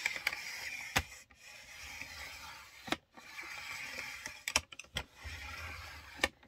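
A massicot paper trimmer scores cardstock for a flap card, giving quiet close clicks, sharp snaps and faint sliding scrapes at an uneven pace.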